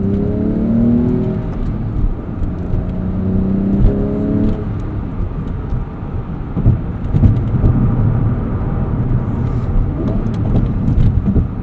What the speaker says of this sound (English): This is the first manual 997 I've ever driven.